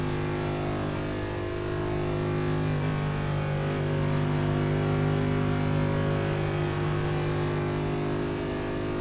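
A race car engine drones loud and close in the NASCAR iRacing game at Kansas, a dense, steady roar holding for the whole stretch with no voices over it.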